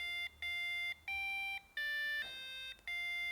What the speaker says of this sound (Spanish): hemos asignado a distintas distancias del sensor de ultrasonidos distintas notas musicales por el zumbador